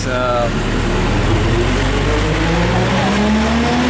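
A city bus drives through Aizawl, Mizoram, its engine droning loudly with rising and falling revs as gears shift, accompanied by road noise and indistinct background voices.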